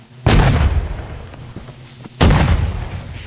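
Two loud, close booming explosions in Holdfast: Nations At War, each a sharp blast followed by a long rumbling decay, spaced about two seconds apart.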